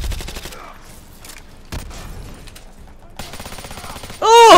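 Automatic pistol fire in Call of Duty Modern Warfare 2 Remastered, quick bursts of close shots separated by short gaps and ending in a louder burst, with game noise around it.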